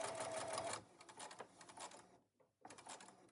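A sewing machine stitching quilt binding runs in a fast, steady mechanical whir, close and loud, briefly stops, then starts stitching again, with no talking.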